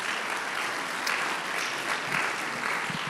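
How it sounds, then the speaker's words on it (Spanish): A church congregation applauds together, a steady wash of dense clapping from many hands that holds evenly throughout, with no talking over it. "Les demos un aplauso a los hermanos de la radio y la televisión."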